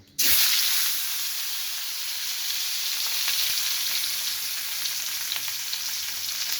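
Rohu fish pieces dropped into hot mustard oil: a loud sizzle bursts in abruptly, then settles into a steady, bright hiss of frying with faint crackles, and no talking.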